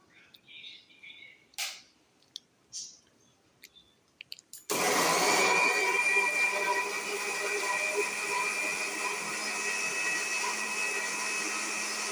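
A kitchen mixer grinds watermelon for ice cream, starting abruptly after a few soft knocks and then running as a loud, steady whirring drone to the end.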